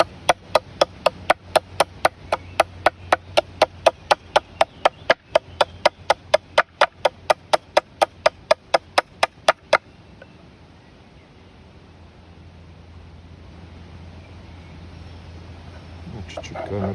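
A heavy forged Yakut knife of X12MF steel chops hard through bone on a board in a fast, steady rhythm for about ten seconds, then stops, leaving a low rumbling background.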